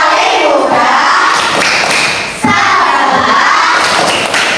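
Schoolchildren in a classroom doing a clapping chant, loud group voices shouting in unison with sharp rhythmic claps and thumps cutting through, close and energetic with a brief lull midway.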